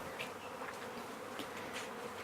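A honeybee swarm flies around a front yard, a soft continuous buzz with individual bees droning briefly past the microphone.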